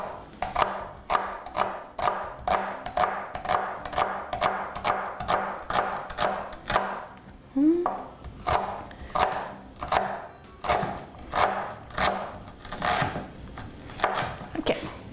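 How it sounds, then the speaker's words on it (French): A knife finely chopping onion on a cutting board gives quick, regular taps in bursts, close and crisp, with a short pause midway before the chopping resumes. "On va hacher vraiment finement."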